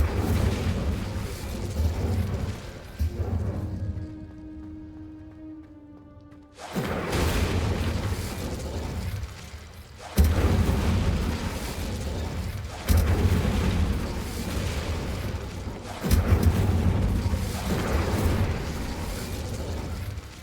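Bursts of fiery spell effects from Incendio casts in the Hogwarts Legacy video game, loud booming whooshes that come in several heavy waves, with a brief quieter gap with a tonal, ringing sound between the blasts.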